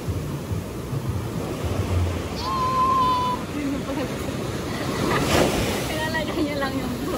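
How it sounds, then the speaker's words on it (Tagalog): Strong sea waves surge in front of a beachside hotel in La Union, a steady roar of surf with gusting wind buffeting the microphone throughout, and a faint tonal whistle briefly rising above the wash. "Ito nga pala yung dagat sa harap ng hotel namin and talagang sobrang lakas sa mga alon"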